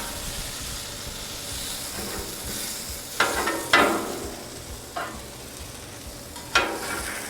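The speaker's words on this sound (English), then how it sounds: "Now we're just warming these up, so we want to spread those around a little bit thin" Leftover birria meat and onions sizzle steadily on a Blackstone griddle, and a spatula scrapes sharply across the flat-top four times over the constant frying hiss.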